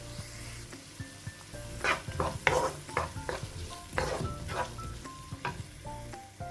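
Onions softened in a pan with a quarter cup of frozen green peas being stirred in, a samosa filling in progress, giving irregular scraping stirs over a low, steady sizzle, close and moderately loud.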